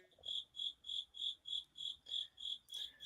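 Crickets chirp in a steady, regular pulse of about eight high, trilling bursts. The sound is quiet and stays alone throughout, with a brief extra bright chirp near the end.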